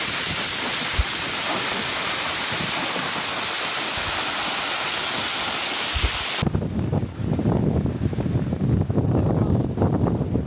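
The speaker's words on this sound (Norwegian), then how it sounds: "Og en av dem jo det definitivt Whiskey Falls. En foss av det helt spesielle slaget." Whiskey Falls waterfall in Lysefjorden, Norway, roars as a steady broadband rush, loud and close at first, then drops to a quieter, more distant wash with wind buffeting.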